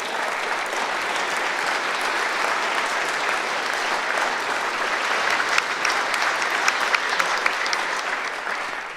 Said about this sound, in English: Let's give a big round of applause for everyone on the state, county, and local level that made this incredible year a reality.